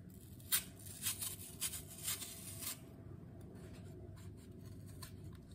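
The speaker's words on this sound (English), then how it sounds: "we're just gonna start with peeling these" Apples being peeled for an apple cobbler, a series of short, soft scraping strokes close up in a quiet kitchen, about six in a row, then fading to lighter rustles.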